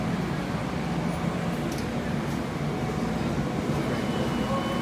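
A Long Island Rail Road train rumbles steadily at Hicksville station, a broad low, even roar of rolling cars with faint higher squeaks, heard from nearby without talking.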